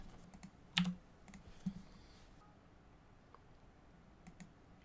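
A few sharp computer mouse clicks, two fairly distinct near the start and fainter ones later, while exporting extracted PDF text to a CSV file in quiet room tone.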